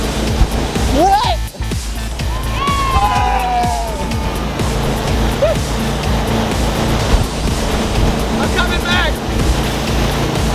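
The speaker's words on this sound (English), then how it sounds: "All right, you gotta wait for the wave." Ocean waves surge and wash steadily around a boat at sea, a continuous loud rush of water, while several people shout and talk over it.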